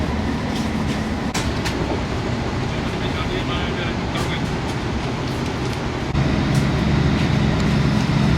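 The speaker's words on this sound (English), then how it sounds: "we're on this train, heading towards Amersham" London Underground Metropolitan line train running toward Amersham, heard from inside the carriage as a loud, constant rumble and rattle of wheels on track with occasional clanks and squeals.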